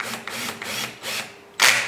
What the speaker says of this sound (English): 3/4 inch screws and go ahead and screw those in